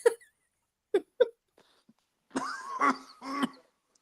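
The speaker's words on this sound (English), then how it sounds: "Was that you coughing" A few short, sharp coughs, then a longer burst of throat-clearing coughs close up, with quiet pauses between.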